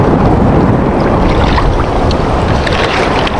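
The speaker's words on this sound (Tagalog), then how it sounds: "At medyo malakas po yung alon." Strong sea waves wash against a small fishing boat at sea, a steady, loud, broadband rush of water and wind that fills the whole stretch without a break, with no voices heard.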